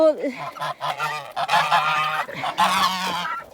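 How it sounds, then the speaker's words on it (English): Geese honk loudly and repeatedly on a free-range farm with a Maremma livestock guardian dog, several calls overlapping in a noisy, continuous chorus close by. "See, she just avoids the geese."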